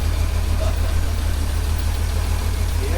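A restored 1934 Federal fire truck engine idles steadily, a loud, even low rumble with a regular pulsing beat and no break throughout.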